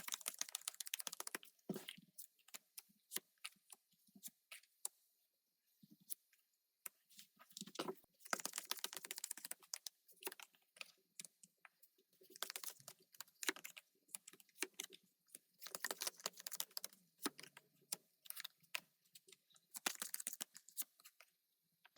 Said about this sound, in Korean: 그럼 카드 섞겠습니다.